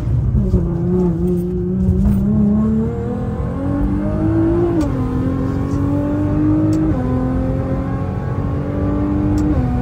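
A car with a dual-clutch gearbox accelerating from inside the cabin, a loud steady engine drone rising in pitch with quick smooth gear changes.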